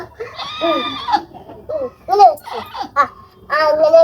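A young goat kid bleats in several short, high wavering cries with pauses between them, close and loud, mixed with a voice.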